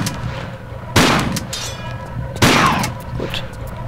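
Two loud gunshots about a second and a half apart in Tomb Raider IV: The Last Revelation, each a sharp blast with a ringing tail, over a low ambient game drone.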